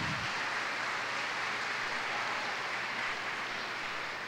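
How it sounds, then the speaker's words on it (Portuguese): Steady, dense applause from a church congregation for actors after a skit at a Sunday service, a continuous crowd clapping wash with no talk over it. "Palmas para os nossos atores, gente."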